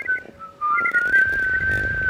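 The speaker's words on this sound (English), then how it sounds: "Try to be unhappy and whistle at the same time." A person whistles a sustained, gliding melody close to the microphone on a balcony, the tone bending up and down for about two seconds with light background noise.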